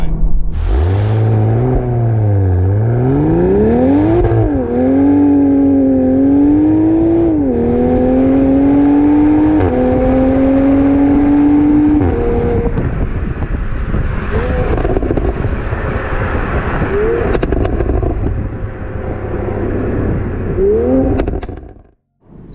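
A 2020 Toyota Supra sports car driven fast, its loud engine climbing in pitch through repeated gear changes with a drop between shifts, then easing off, with steady wind and road rush throughout.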